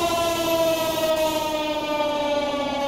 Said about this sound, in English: This siren is like really choppy and I do not like it